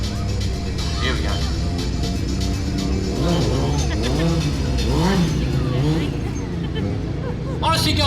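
A stunt motorbike loops a circle wheelie at a cafe bar stunt show, its engine rising and falling in repeated revving sweeps under a commentator's voice and crowd chatter.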